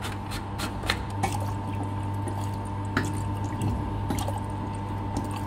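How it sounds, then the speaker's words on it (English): Water runs into the water tank of a hand-held laser cleaning machine, a steady filling trickle over a constant machine hum, with a few sharp clinks and drips along the way. "when we start the machine, we need to put in the water here"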